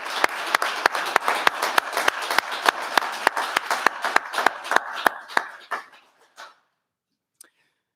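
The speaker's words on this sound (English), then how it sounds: "one more round of applause for all our graduates" Applause for graduates at a university English and Philosophy awards ceremony: a small group claps in a quick, sharp rhythm with distinct individual claps, then thins out and stops, leaving near silence with one last stray clap.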